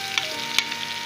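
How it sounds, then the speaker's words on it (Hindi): Garlic ginger paste frying in oil for dal mash, a brief steady sizzle with a couple of small pops or stirring taps, close and alone. "ये मैंने आयल में लहसुन अदरक का पेस्ट शामिल कर दिया। ये फ्राई हो रहा है।"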